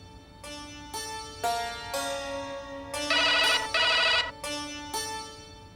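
A telephone rings with a series of electronic tones in a repeating pattern, clear and fairly close, with no one speaking.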